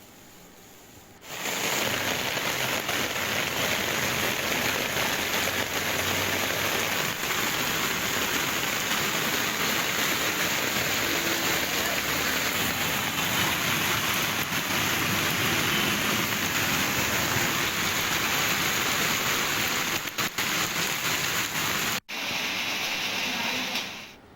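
Dense, steady downpour of heavy rain with thunderstorms in Telangana roars without a break for over twenty seconds, cutting off sharply near the end before resuming briefly.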